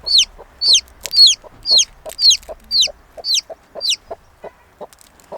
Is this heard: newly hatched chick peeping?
yes